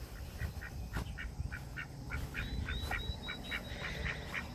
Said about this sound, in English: This is Gideon, our male duck.